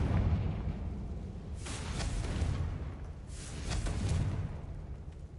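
A Confringo blasting spell goes off in Hogwarts Legacy, giving two rumbling, whooshing bursts about two seconds apart over a low, steady game background.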